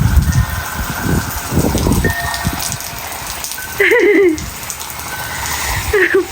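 Water sprinkled over garden plants patters and splashes steadily like light rain, with a bird bathing in the spray; a few brief chirps break through near the middle and end.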